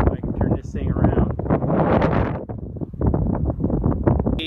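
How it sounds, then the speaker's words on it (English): Strong wind blows outdoors in the open country southeast of Bridger, Wyoming, buffeting the microphone in a steady, loud rush while someone talks over it throughout. "wind's blowing pretty good"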